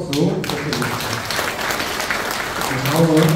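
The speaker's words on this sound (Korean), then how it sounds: "축사해주신 소관장 부장님께 다시 한번 큰 박수" An audience at a Bareun Salgi movement members' convention in Pocheon applauds after a congratulatory speech, steady clapping over which a voice talks through much of the clip.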